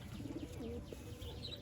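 Pigeon held in the hand, giving soft low cooing notes and a few faint chirps over quiet room noise, close and brief.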